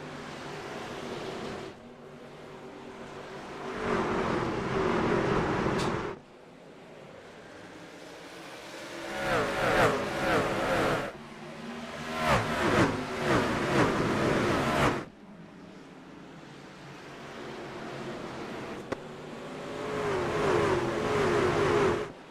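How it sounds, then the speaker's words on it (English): Race trucks at the Milwaukee Mile oval roar past in repeated waves, engines swelling loud as each pack accelerates by and then fading, with no voices over the engine noise. "racing commences once again from the Milwaukee Mile."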